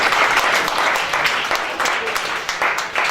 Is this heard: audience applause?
yes